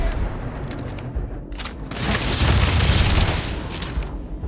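Rapid gunfire during a firefight in the space game Starfield, bursts of shots crackling over a dense, roaring backdrop, growing louder and busier toward the end.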